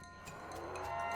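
Cows in the West of Loathing game give a short low moo over a faint steady game backdrop, with no talk.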